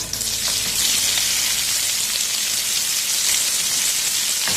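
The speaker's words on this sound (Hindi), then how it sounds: "और अब इस ऑयल में हम प्याज डाल देंगे" Onions frying in hot oil in a home kitchen while cooking chicken reshmi masala, giving a loud, steady close sizzle and crackle that runs unbroken with no talking.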